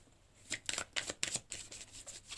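Tarot cards shuffled and drawn by hand, a run of quick papery riffles and slaps up close, fairly soft, with no talking over them.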